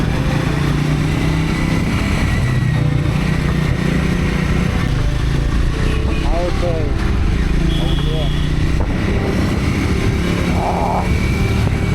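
A Triumph motorcycle with spoked wheels hums steadily while being ridden, its engine drone constant under wind noise as the rider talks throughout.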